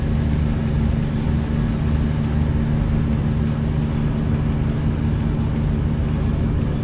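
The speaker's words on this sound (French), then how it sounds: "Et là, les autres voitures vont remonter." Cars drive onto a Loire river ferry, a steady nearby engine drone with a faint rhythmic clatter as they roll aboard.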